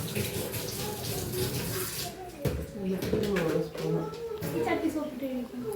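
Water runs steadily from a tap while jackfruit is washed for a curry, a continuous splashing rush throughout, with people talking over it.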